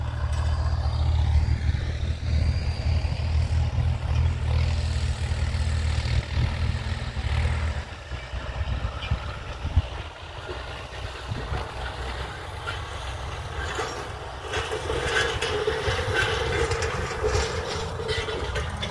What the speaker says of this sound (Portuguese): E olha o trator lá em riba, ó.